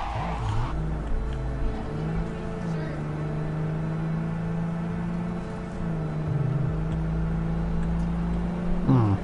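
In the Cyberpunk video game, a car drives fast with a steady engine drone that rises and falls in pitch, heard under game dialogue and music.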